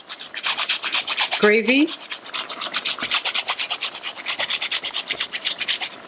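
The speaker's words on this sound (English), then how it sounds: "I'm adding a little grate of the coconut block, just for a richer" A block of coconut cream rasped against a grater in quick rhythmic strokes, a steady scraping run close by for several seconds, with a brief bright clink partway through.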